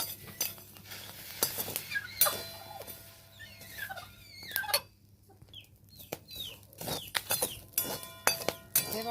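Whole chickpeas dry-roasting in a pan for crispy futane while being stirred: close, repeated scraping, clinking and rattling in irregular bursts with short squeaky strokes, and no talk.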